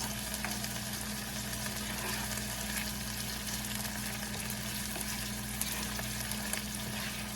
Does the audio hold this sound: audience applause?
no